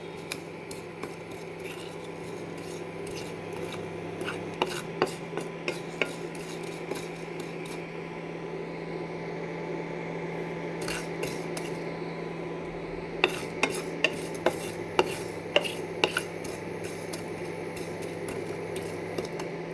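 Spices for a chilli pickle (lonka achar) fry over medium heat in a pan while a spoon stirs them, making faint, irregular metallic clinks and scrapes over a steady low hum.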